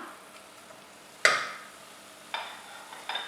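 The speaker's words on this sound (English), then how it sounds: "give it a quick stir so that my potatoes get all heated up" Spicy dry potatoes stirred in a pan, heard as one sharp scrape followed by a soft hiss, then two lighter scrapes near the end, close and quiet with no talk.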